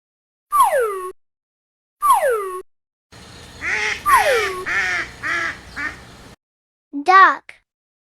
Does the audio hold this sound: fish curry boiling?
no